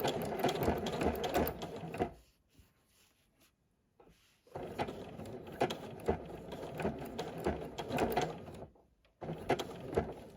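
Sewing machine running a blanket stitch around an appliqué heart with interfacing, in steady close bursts with two short pauses between runs.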